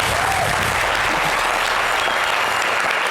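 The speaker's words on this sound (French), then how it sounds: "que je vous demande un applaudissement" Dense, steady applause from a studio audience on a French TV variety show, a continuous wash of many hands clapping loudly throughout with no gaps.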